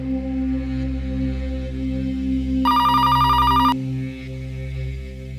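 A telephone ringback tone heard on an outgoing call, a steady electronic ring lasting about a second, cutting in over a continuous low hum in a quiet indoor scene.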